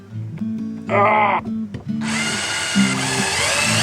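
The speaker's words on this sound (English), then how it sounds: "2 holes drilled for the mounting screws" A power drill bores mounting screw holes in a 2005 Recording King ROS 606 acoustic guitar, giving a short whining burst followed by a longer, steady drilling run, close and loud.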